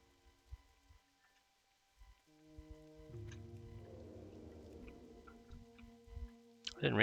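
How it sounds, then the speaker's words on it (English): Steady rain falls in the foothills in World of Warcraft Classic, a soft continuous patter that builds from near silence to a moderate wash, with a voice speaking over it and game music underneath. "It's always raining in the foothills"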